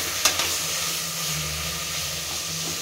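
Bagara rice masala sizzles steadily in a hot pan as it is stirred, with a couple of sharp utensil knocks near the start, then an even frying hiss with no speech.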